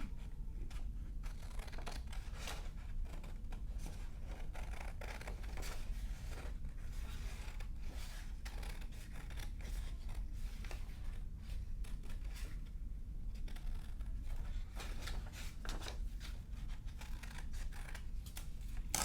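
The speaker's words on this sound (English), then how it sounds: "when you're cutting, it's always good to turn your paper so your scissors are not facing you" Scissors cut paper steadily for a long stretch, producing soft, continuous snipping and rustling close at hand, with paper being turned between cuts and no talking.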